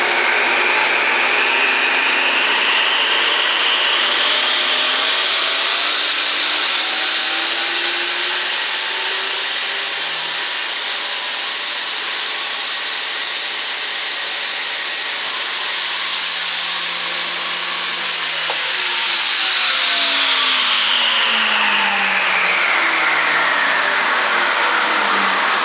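A Shopsmith Mark V motor runs steadily while its speed is turned up, the whine climbing in pitch over many seconds, then dropping back near the end. It is loud and continuous, with no voices.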